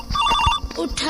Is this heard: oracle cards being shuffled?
no